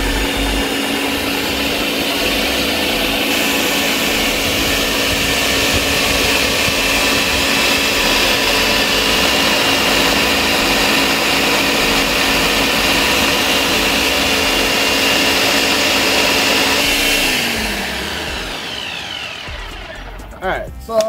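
A Ninja blender whirs loudly and steadily while blending pineapple and banana into juice. The motor holds a constant drone for most of the stretch, then winds down and stops near the end.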